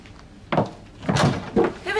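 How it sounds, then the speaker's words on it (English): A door is pushed shut as someone leaves, giving a few dull thuds and knocks in a row at close range, with voices murmuring faintly around them. "Rosie, if you can sort the door on the way out"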